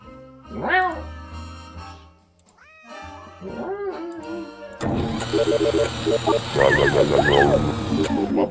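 A cat meows repeatedly in a video game, with rising and falling yowls that are loud and close, followed by busier game sounds with more overlapping cries.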